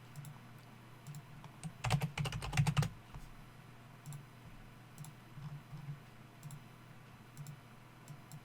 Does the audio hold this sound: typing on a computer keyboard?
yes